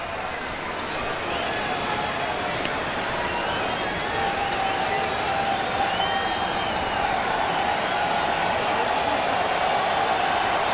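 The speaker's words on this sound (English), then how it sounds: "Biggest crowd in Petco Park history trying to get behind Jason Adams" A huge baseball crowd at Petco Park in San Diego during a Braves–Padres Wild Card playoff game, a dense, sustained roar filling the stadium for the whole stretch, with a broadcaster's voice over it.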